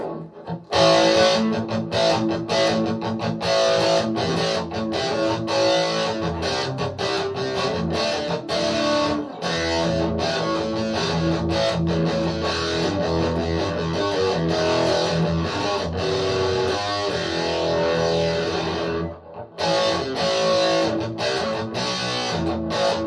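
Heavily distorted electric guitar, a Fender Squier Sonic Stratocaster, plays continuously, thick and loud, with chords and riffs ringing out and a brief break near the end.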